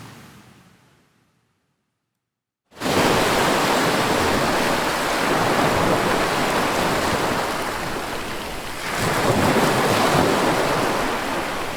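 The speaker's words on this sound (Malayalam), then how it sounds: "ഉയർന്നു പൊങ്ങിയ തിരമാലകൾ കരയിലേക്ക് ആഞ്ഞടിച്ച് പ്രദേശമാകെ വെള്ളത്തിലായി" After a short quiet stretch, a rough sea roars in as heavy waves crash continuously onto the shore at Valanjavazhi, Ambalappuzha, in Alappuzha during severe coastal sea erosion, a loud, broad, unbroken surge with a swell near the end.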